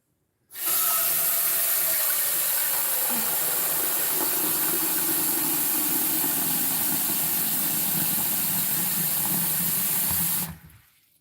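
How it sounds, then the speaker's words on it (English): Tap water runs steadily into a cooking pot at a kitchen sink for about ten seconds, a loud continuous rushing gush that starts and stops abruptly, with no talking over it. "I fill this with water."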